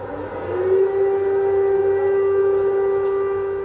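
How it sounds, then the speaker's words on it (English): An air raid siren swells up and holds a single steady wailing tone, loud and continuous, sounding alone for a few seconds. "The air raid sirens are irregular now."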